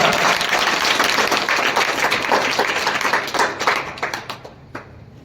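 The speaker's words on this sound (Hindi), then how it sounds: "जोरदार नहीं है, बहुत जोरदार तालियां" An audience at a school results day and farewell ceremony for class 8 students claps loudly and steadily, then the applause thins into scattered claps and fades out.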